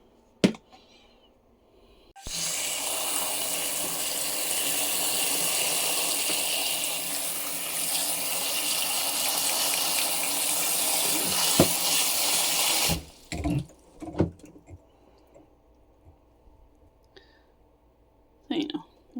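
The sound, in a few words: rinsing blackberries in a bowl with running tap water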